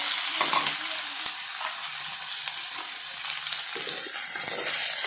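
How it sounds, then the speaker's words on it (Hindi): Garlic, chili and onion frying in hot mustard oil in a kadhai, a close, continuous sizzle and crackle with faint stirring scrapes throughout. "तो कढ़ाई में तेल गरम हो चुकी से अब हमने में डालबो सरसों के फोरन। उसके बाद लहसुन मिर्ची,"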